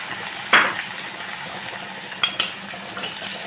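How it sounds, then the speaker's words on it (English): Leafy onions and rosemary drop into a hot cooking pot with a brief sharp hiss, followed by a soft steady sizzle and a couple of faint utensil clinks. "So we are adding our leafy onions"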